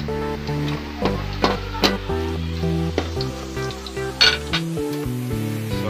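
Garlic sautéing in a pan until brown, a soft sizzle with several metallic clinks and scrapes of a utensil against the pan over steady background music.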